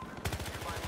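Gunfire in the video game Battlefield Hardline, a rapid automatic burst of close, loud shots in quick even rhythm lasting under a second.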